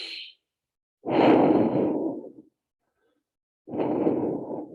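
Slow, deep breaths during yoga poses: a brief exhale, then a long breathy inhale lasting over a second, a pause, and another long breath, all close and clear with no talking.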